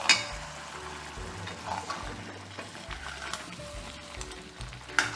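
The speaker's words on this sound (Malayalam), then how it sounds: "നമ്മുടെ ഇപ്പുറത്ത് വെള്ളം ചൂടായി കൊണ്ടിരിക്കുന്നു" Water heats and boils in a pot on the stove while kappa and beef are cooked, making a steady, close bubbling hiss with low rumbling pulses and a faint clink near the end, no voices.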